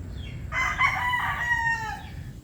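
Butcher line chickens of the Mt. Banahaw line in a breeding pen, a rooster crowing loudly and clearly over a steady layer of nearby clucking and fowl chatter.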